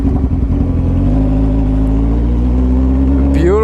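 A 2007 Suzuki Hayabusa stretched motorcycle idles with a steady, deep, loud engine hum that rises into a quick rev near the end.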